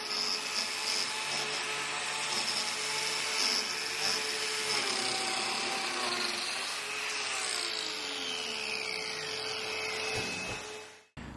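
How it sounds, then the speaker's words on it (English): An Arbortech power carving unit spins with a thin, high motor whine while its blade works wood, quiet and steady, with the pitch sagging and sliding near the end before cutting off abruptly. "motor is running until I can hear the blade touching the wood"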